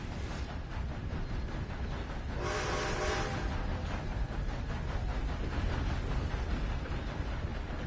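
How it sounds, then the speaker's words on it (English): A train passing in the video game Red Dead Online: a steady, loud rolling rumble throughout, with a brief brighter, whistle-like burst partway through. "Here comes the train again."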